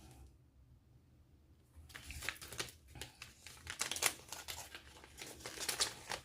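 Christmas gift package unwrapped at close range, with quiet crinkling and tearing of paper and wrapping starting after a near-silent pause, then a run of soft rustles.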